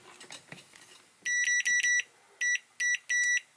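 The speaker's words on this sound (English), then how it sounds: "the beeper definitely is pretty fast" Continuity beeper of an OWON CMS101 clamp meter, several sharp, piercing electronic beeps in quick bursts of varying length after some faint handling clicks.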